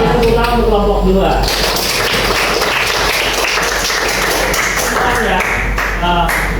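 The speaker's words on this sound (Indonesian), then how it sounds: "Tepuk tangan untuk kelompok 2." Classroom applause for a student presentation group during a teaching session, a steady burst of clapping with voices talking over it throughout.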